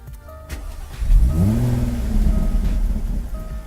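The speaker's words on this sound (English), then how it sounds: "you are welcomed with a nice V6 noise from the exhaust" A Jaguar F-Type with a V6 engine starts up: the starter catches and the exhaust flares into a rising rev that settles into a steady, throaty idle, loud and close.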